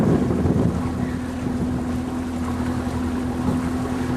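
A small outboard motor drones steadily on a creek under overcast skies, a constant low hum with a sustained tone beneath wind noise and water wash, with no talking.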